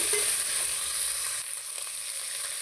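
Drumsticks (moringa pods) frying in oil with onions and green chillies for munakkaya pappu, a steady loud sizzle throughout that drops slightly partway as the pan settles.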